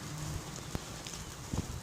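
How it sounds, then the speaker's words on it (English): Rain in the video game Old School Runescape, a soft, even patter with a few faint drips and ticks standing out, with no voices. "It's raining."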